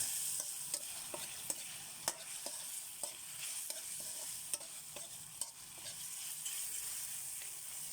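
Sautéed bagoong alamang shrimp paste from Calasiao, Pangasinan, seasoned with pepper and stirred in a pan: a quiet continuous sizzle broken by regular clinking scrapes of a utensil against the metal.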